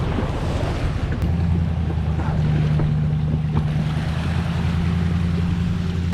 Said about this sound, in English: Got the 94 Waverunners my buddy's riding,